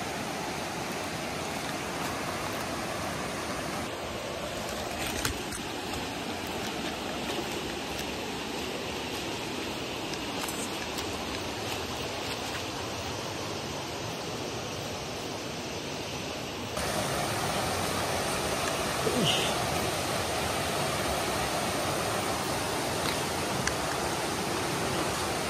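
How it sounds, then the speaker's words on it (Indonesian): A big, fast-flowing river with one of the strongest currents, heard as a steady, broad roar of rushing water that grows slightly louder partway through, continuous and with no voices. "Dan suara aliran sungai yang bergemuruh pun mulai terdengar."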